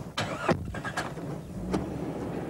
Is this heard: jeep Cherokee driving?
yes